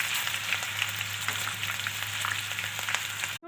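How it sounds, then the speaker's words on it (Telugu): Green chilies sizzle and fry in hot oil for vadapav, a steady loud crackling hiss with scattered pops throughout, alone with no talk, cutting off abruptly at the end. "ఇప్పుడు నేను ఇవి ఆయిల్లో వేసుకుంటున్నాను"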